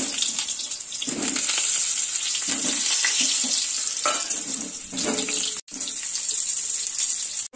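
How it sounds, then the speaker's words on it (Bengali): Potatoes for a Bengali chicken and potato curry fry in a pan with a strong, steady hissing sizzle, close up, with low stirring knocks and two brief dropouts. "আমি আগে আলুটা ভেজে নেবো একটু লাল করে"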